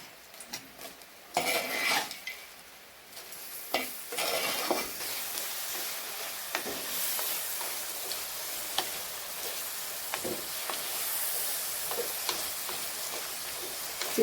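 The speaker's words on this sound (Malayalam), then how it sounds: "ഞണ്ട് ഫ്രൈ ഞാൻ ഇടാൻ പോവാം" Sea crab frying in a pan for a Kerala-style crab roast, a steady close sizzle with stirring scrapes and metal clinks of a spoon against the pan throughout, and no talking.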